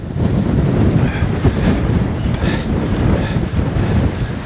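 Strong, gusting wind during Storm Darragh on the Dorset coast, a loud continuous roar buffeting the microphone, with surf noise beneath and no talking.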